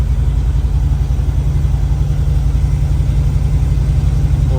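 A 1973 International Scout 4x4 engine running at idle, a loud, steady low rumble close by with an even throbbing pulse throughout.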